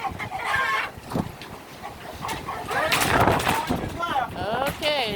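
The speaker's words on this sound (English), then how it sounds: "Sound like a regular chicken." Backyard chickens cluck and squawk in repeated bursts close by, several birds overlapping with brief crow-like calls, while a person talks intermittently among them.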